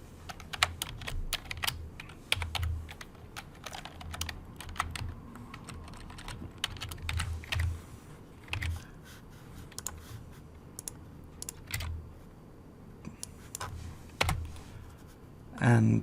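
Username and credentials are typed on a computer keyboard in quick, irregular bursts of crisp close clicks, with short pauses between runs of keystrokes.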